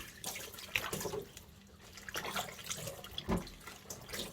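Bangpung (coastal hog fennel) greens are washed by hand in vinegar water after a ten-minute soak: steady splashing and trickling with occasional sloshes, close by and without talk.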